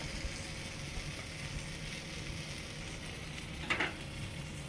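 Coriander powder and red chili powder being lightly fried for a fish curry, a steady soft sizzle throughout with a brief louder stir or scrape near the end; no one speaks.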